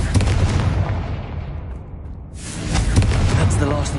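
A Confringo fire spell from Hogwarts Legacy explodes in a series of loud, booming blasts and bursts, with a brief lull before another heavy explosive burst.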